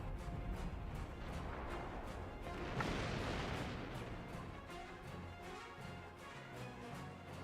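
Naval guns in World of Warships fire semi-armor piercing shells in a rapid stream of booming shots, dense and continuous with a heavier burst near the middle, over a constant rumble of battle ambience.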